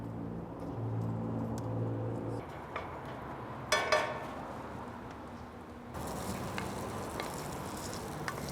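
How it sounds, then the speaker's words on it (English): Hot Italian sausage, about four ounces, browns in a skillet with a steady low sizzle and a brief clatter midway, a faint hum underneath. "I've got about 4 ounces of hot Italian sausage that we're gonna brown up in the skillet here."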